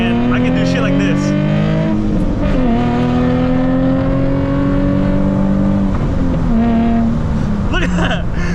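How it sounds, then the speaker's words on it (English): A Nissan 350Z's VQ engine, breathing through an aftermarket exhaust, pulls hard through several rising, strained revs and gear shifts, loud and close, with a brief tire chirp. A driver speaks intermittently over the engine. "So many people hate on the VQ and how it sounds, but personally, I think it sounds amazing, especially if you do the exhaust right"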